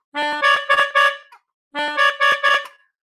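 Melodica notes played in two short phrases, the reedy tone carrying a slightly clashing, chromatic dissonant interval, separated by a brief gap.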